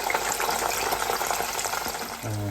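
Cauliflower and broccoli fry in a pan with a steady, busy sizzle and crackle of hot oil, heard up close with no talk.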